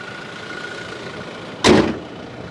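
A used Toyota Innova Crysta V, 2.4 manual, idles with a low, steady engine hum, interrupted by a short loud thud or clunk near the end.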